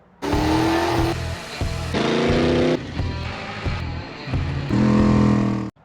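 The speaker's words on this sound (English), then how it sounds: "This is a 1957 Gard'n Mast'r tractor." A 1957 Gard'n Mast'r garden tractor's small engine runs close by, revving up and settling in several distinct surges with steady idling between them, then cutting off abruptly at the end.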